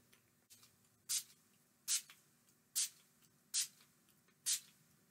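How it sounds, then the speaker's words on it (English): Final seal setting spray misted over body paint in five separate bursts, each a short airy hiss of about a third of a second, roughly evenly spaced and fairly close, with quiet room tone between. "I'm going to take my final seal and we are going to spray it."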